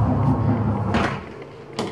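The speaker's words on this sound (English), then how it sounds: "So let's open the door to the right first." A door opening inside a Japanese apartment in Okinawa, heard as a couple of short knocks and clicks from the latch and handle over a low room hum, close by and fairly quiet.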